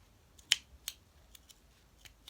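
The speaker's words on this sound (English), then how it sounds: "Scissors instead of clippers." Scissors cutting ribbon for making bows: one sharp, close snip, then several fainter crisp clicks spaced irregularly over a quiet background.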